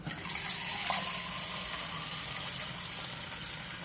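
Water from a Samsung refrigerator door dispenser streams steadily into a cup, a continuous splashing hiss that holds an even level throughout with no voices.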